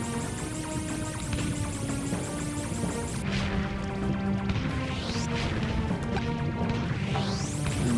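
Blocks shatter in Super Mario Maker 2 as a shot breaks through them, a series of crunchy smashing impacts layered over busy game music and rising sweep effects, with no talking.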